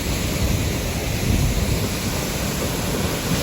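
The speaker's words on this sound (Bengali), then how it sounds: "ঝর্নার থেকে বাতাসে পানি উড়ে আসছে" A waterfall at Hunua in New Zealand, with spray blowing through the air, gives a loud, unbroken broadband roar close by with no pauses.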